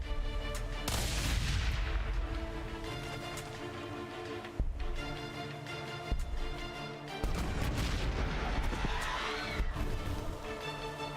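Units exchanging gunfire in the Warhammer 40,000: Gladius strategy game, with repeated loud booming shots and rattling volleys separated by brief pauses, plus rolling blasts and layered game effects.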